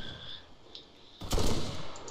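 Gunfire in the military video game ARMA: a soft faint pop, then a louder sharp burst of shots with a rumbling tail, all over a quiet background.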